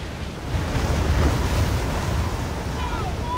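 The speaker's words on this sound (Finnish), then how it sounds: "Vene oli jo hyvän matkan päässä rannasta ja ponnisteli aallokossa vastatuuleen." Choppy lake waves wash and churn around a small boat pushing into a strong headwind, with a steady roar of wind and surf that swells slightly after the first half-second and then holds constant.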